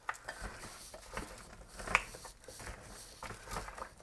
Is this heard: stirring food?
yes